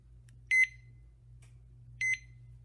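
A kitchen timer being reset gives two short, bright double beeps about a second and a half apart, heard close and clear over a quiet low electrical hum.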